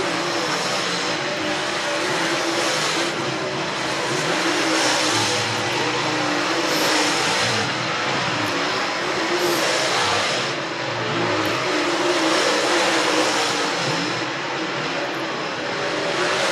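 Super dirt late model race cars at Needmore Speedway in Norman Park, Georgia, roar in a steady, loud pack, engines droning continuously with surges as cars pass, track noise filling the whole stretch without speech.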